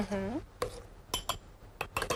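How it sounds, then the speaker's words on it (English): A metal spoon clinks against a glass as spoonfuls are added while a dessert is made, giving a few sharp, close chimes spaced apart after a short spoken phrase. "we are going to take about 3 teaspoons worth, and we're going to put it inside the glass"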